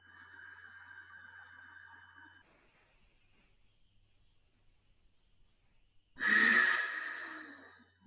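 A forceful pranayama exhalation in a breathing exercise, a sudden strong rush of breath out near the end after a long quiet hold, loud and close, fading over about two seconds.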